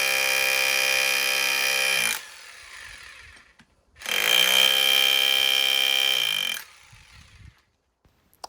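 A cheap hammer drill in chisel mode hammers against an old paving stone in two sustained, loud buzzing runs of a few seconds each. A quiet gap falls between them, and the tool spins down after each run.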